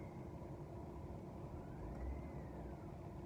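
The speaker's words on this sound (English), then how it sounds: "Yeah, this is like idling at 400" Chevrolet Silverado engine idling at about 400 RPM once warmed to full operating temperature: a faint, steady low rumble with a smooth, even drone and no voices.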